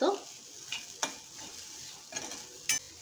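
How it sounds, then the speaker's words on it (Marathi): Grated coconut roasting in a spoonful of ghee gives a soft, low sizzle, with a few distinct knocks and scrapes of a spoon against the pan, quiet and close. "आधी आपल्याला ना हे नारळ व्यवस्थित परतून घ्यायचं आहे तुपामध्ये"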